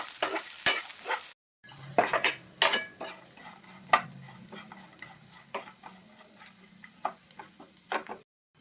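Ginger, green chili, garlic and chopped onion sauté in a pan for mushroom masala, heard as quiet, irregular spatula scrapes and clicks over a faint sizzle, with one short silent gap.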